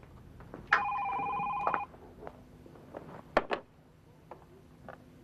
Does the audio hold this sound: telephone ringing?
yes